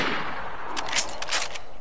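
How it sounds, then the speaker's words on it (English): Rapid gunfire in the DayZ video game, a few distant, muffled cracks heard through a constant noisy hiss. "He's shooting back at you."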